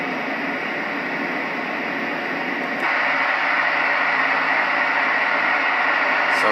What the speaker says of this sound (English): So a little bit of a noisier fan.